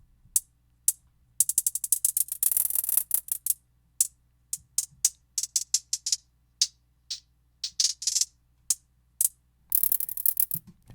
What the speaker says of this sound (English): shifter, this will allow you to kind of like pitch it down, pitch it up, and you can kind of have your hi-hat moving up and down